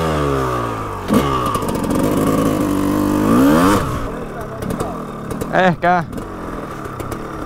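A Kawasaki motorcycle engine runs and revs loudly at close range, rising and falling in pitch, then shows a couple of sharp throttle blips. A short spoken word is heard among the engine noise.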